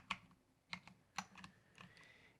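Bracket keys tapped on a computer keyboard while resizing a brush in a digital illustration program: a handful of crisp, separate clicks in an uneven rhythm, close and quiet, with no voices.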